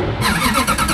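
Koenigsegg Zijin supercar engine cold-starting, a loud close burst of engine roar that comes in abruptly after a brief pause and holds strong for under a second.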